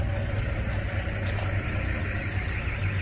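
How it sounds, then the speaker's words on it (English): A truck rumbles nearby, its steady low engine noise and broad roar holding at an even level, loud and close, without pause. "Sorry for the truck noise, guys."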